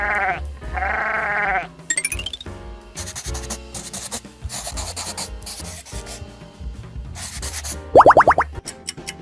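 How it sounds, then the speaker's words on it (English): Sheep bleating amid a busy children's animal-vocabulary soundtrack: a loud wavering bleat opens, followed by boings, rubbing and scratchy effects, then a sharp bleating cry near the end. "A sheep."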